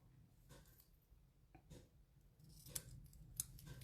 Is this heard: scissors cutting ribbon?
yes